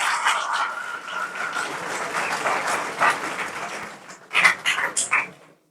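An audience at an award ceremony in Ayodhya applauds in a dense, fairly close burst that thins into a few scattered louder claps near the end.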